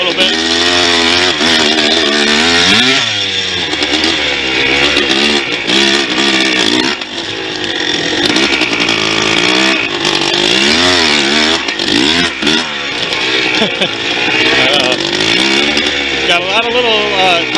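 A 2001 Yamaha Blaster ATV engine revs hard while riding, its loud, buzzy two-stroke note continuously climbing and falling as the throttle opens and closes, close and dominant throughout.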